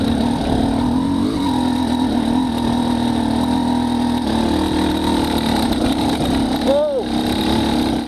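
A motorcycle fitted with a SmartCarb SC2 carburetor idles at low RPM with a steady, even mid-pitched engine drone, while people talk over it.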